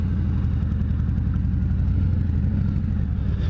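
Harley-Davidson Fat Boy 114 motorcycle engine revving hard, a loud, close, continuous deep throaty rumble that holds steady throughout with no pauses.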